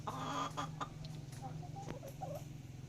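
Chickens clucking inside their coop, with short murmured clucks and a low steady hum underneath, faint and close.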